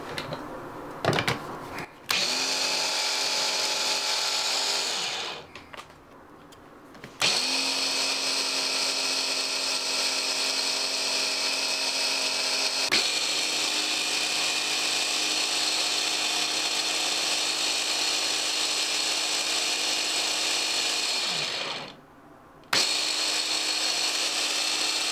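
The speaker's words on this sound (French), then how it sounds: "je continue encore une fois à mixer jusqu'à avoir une pâte très liquide et bien onctueuse" A blender whirs steadily as sesame paste with a pinch of salt is blended into smooth, runny tahini, the loud motor hum running continuously with brief pauses around a few seconds in and again near the end, without any talking.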